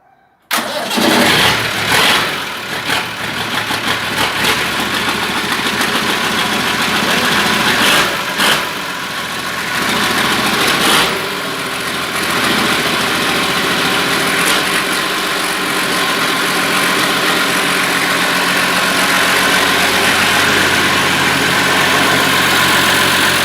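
A Massey Ferguson 1200 tractor on fresh batteries cranks, catches and settles into a loud, steady idle that runs on, close up, with no talk.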